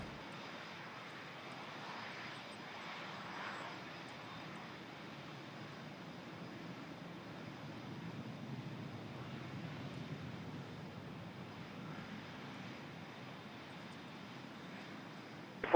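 A KLM Boeing 787-9 departing Toronto Pearson airport sounds as a steady, moderately distant jet engine roar with a low rumble and wind-like noise, lasting throughout without talk.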